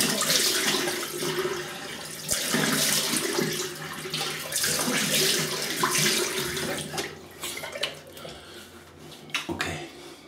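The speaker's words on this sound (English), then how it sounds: "let me rinse, see if there's anything new picked up." Tap water running into a sink while someone rinses their face after a wet shave, a close splashing rush with uneven bursts as hands scoop and splash.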